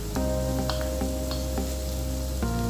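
Onions frying in a pan with ginger added, a steady close sizzle with a constant hum underneath and a few sharp clinks of stirring, no talking.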